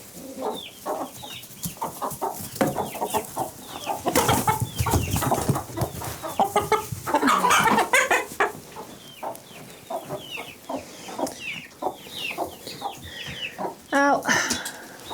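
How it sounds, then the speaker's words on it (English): A cockerel and hens on a farm cluck and chatter nearby in a busy, irregular stream of calls, with a louder burst of clucking near the end and a voice occasionally heard underneath. "here's a cockerel."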